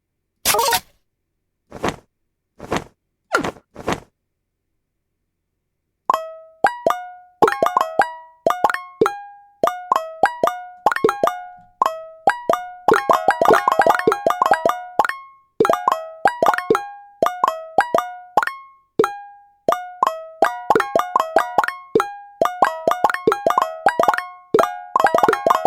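Google Minesweeper game effects: a few sharp clicks, a pause, then a rapid run of bright plinking, plopping tones in quick bursts and cascades, loud and close.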